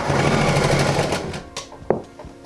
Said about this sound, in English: I am sewing the sleeves on the jacket, and it's gonna be amazing. It's a lot of layers to sew through